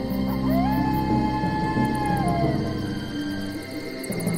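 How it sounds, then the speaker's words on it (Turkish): Long wavering howls of wolves at night in a forest, several rising and falling cries overlapping above a dark rumbling ambience, used as a fairy-tale sound effect. "Kurtlar etraflarında ulurken"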